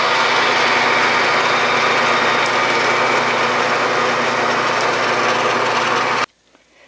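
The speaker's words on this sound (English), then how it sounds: "Now I'm drilling the first hole" A drill press boring the first hole in a workpiece, set with a crude tape depth stop, for an Atlas gear cutting fixture; a steady, loud machine whine and grind runs continuously for about six seconds, then cuts off abruptly.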